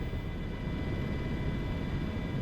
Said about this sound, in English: The helicopter takes on a slightly more aggressive profile, getting us altitude and airspeed